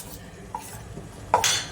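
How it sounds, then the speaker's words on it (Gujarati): Quick scraping and clinking of a utensil against a bowl as dhokla batter is beaten frothy, with a louder burst of rapid whisking toward the end, close up and without speech. "એકદમ ફીણી લઈશું"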